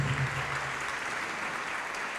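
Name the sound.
church congregation applauding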